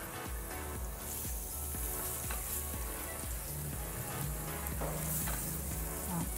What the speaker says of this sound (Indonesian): minyak ini kita akan gunakan untuk menumis bahan-bahan. Yang pertama, kita akan menambahkan bawang putih.